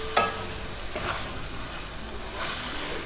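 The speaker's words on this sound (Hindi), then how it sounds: "इसे हम भूनेंगे ज़रा अच्छी तरह।" Small pieces of liver (kaleji) frying in a pan, a steady close sizzle with a sharp clatter at the start and soft stirring scrapes throughout.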